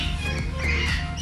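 An owl calls from an enclosure in a small animal collection, giving a few short, harsh squawks close by over low background noise.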